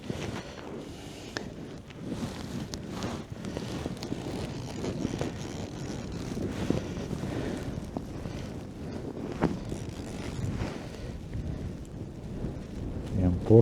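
Blizzard wind gusts across a frozen lake during ice fishing in a snowstorm, a rough, buffeting roar that swells and rumbles against the microphone throughout, with some faint handling noise mixed in.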